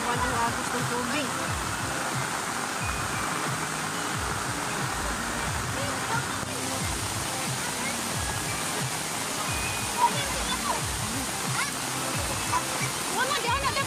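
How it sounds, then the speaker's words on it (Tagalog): A strong river current rushes past in a steady, loud wash of water that continues unbroken, with speech faintly present beneath it. "sobrang lakas na ang agos ng tubig"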